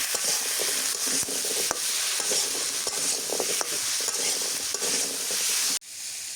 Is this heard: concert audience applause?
no